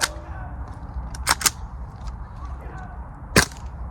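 A Tokyo Marui MWS M4A1 CQBR gas blowback airsoft rifle firing on a cheap green gas: a few sharp, loud cracks, with a close pair early and another shot later, over a low indoor hum.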